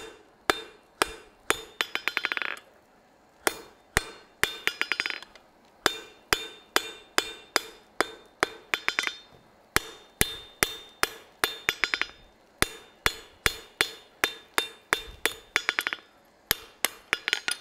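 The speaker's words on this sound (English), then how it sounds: "we'll hammer out the twist." Hot steel being hammered on an anvil during a live forging demonstration, flattening a twist near a riveted eye; loud, sharp metallic strikes land in steady rapid bursts, some in quick bouncing flurries, with no talking.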